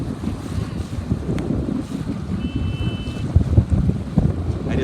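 A strong gust of wind buffets the microphone while sailing a boat in a yacht club race, with rushing wind and water washing against the hull in a loud, continuous roar.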